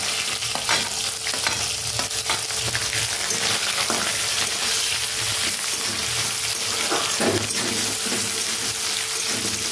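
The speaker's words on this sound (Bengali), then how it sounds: "পেঁয়াজটা একটু লাল লাল করে ভেজে নেব।" Chopped onions sizzle and fry in a hot pan, a constant crackling hiss with occasional stirring scrapes, close and steady throughout with no talking.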